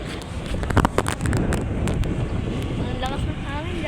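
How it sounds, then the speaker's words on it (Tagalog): Strong gusty wind buffets the microphone outdoors while cousins fly kites, a steady rushing roar with louder bursts, and people talk and exclaim over it. "Ang lakas ng hangin"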